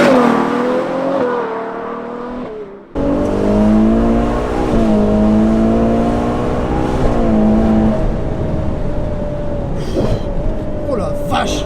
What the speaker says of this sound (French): Et la sonorité du V12.